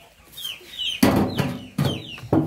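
Chickens being fed cluck close by in short bursts, several sharp clucks breaking through softer chatter and faint chirps in the background.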